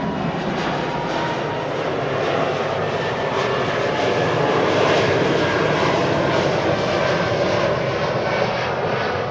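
An Embraer 195 jet takes off from Amsterdam Schiphol, a steady loud engine roar holding throughout with a broad rushing texture, no voices present.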